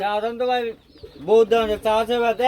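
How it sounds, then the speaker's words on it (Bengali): A red male Danish runner pigeon coos loudly and close at a pigeon market in Bangladesh, two long throaty rolling calls split by a short pause. "এটা হচ্ছে নরকবুতর এটা হচ্ছে রেড কালার আর ড্যানিসের রানিং নর"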